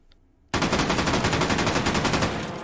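A FAL Para rifle fitted with a muzzle brake fires fully automatic in the VR shooter H3VR, a loud rapid burst of evenly spaced shots that bursts out of near silence and keeps going to the end.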